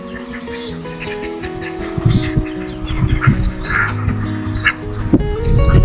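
Ducks on a village farm quack in short, scattered bursts at close range, mixed with bird chirps and a low steady hum in the background.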